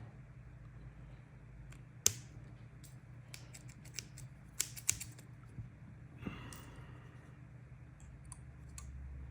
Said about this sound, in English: Now I've got to trim the ends.